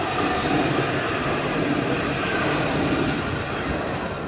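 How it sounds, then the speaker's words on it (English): Nottingham city tram gliding past on its rails, a steady close rumble and hiss of wheels holding at an even level for a few seconds, with faint higher squeaks now and then and no voices. "One tram after another."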